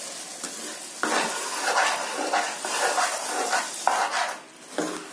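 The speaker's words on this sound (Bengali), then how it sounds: "এবার গুড়ের মধ্যে খইটাকে ধীরে ধীরে ঢেলে এরকম নাড়তে থাকবো" Puffed rice being stirred into molten jaggery in a pan for homemade murki, a steady scraping stir with soft crackle and sizzle, close and continuous, with brief bursts of louder stirring and no talking.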